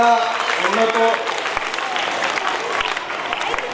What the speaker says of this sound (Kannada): ಅವರಿಗೆ ಒಂದು ಜೋರಾಗಿ ಚಪ್ಪಾಳೆ ತಟ್ಟಿ